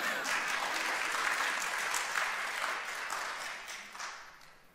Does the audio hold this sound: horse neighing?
no